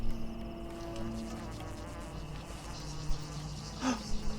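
Soft, steady insect-like buzzing of herbs in Pathologic 2 drones throughout, faint and continuous, with a brief brighter chime near the end.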